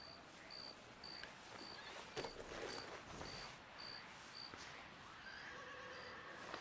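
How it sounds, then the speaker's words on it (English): A horse whinnies while being brushed in Red Dead Redemption, heard against chirping insects and a soft outdoor ambience. "Let's brush the horse."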